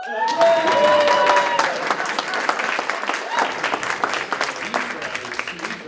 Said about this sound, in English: It says pause for applause